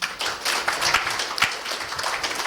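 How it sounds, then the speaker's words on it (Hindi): Hand claps at a yoga and meditation session ring out in a quick run of sharp, fairly loud slaps over a few seconds, with no speech over them. "अब फिर ताली बजा लो।"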